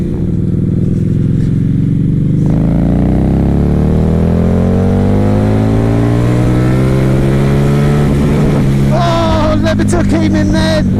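A 2016 Harley Davidson Night Rod motorcycle roars loud and close, its engine pitch sweeping up through the gears as it accelerates, then a rough burst of revving and wind buffeting at the end.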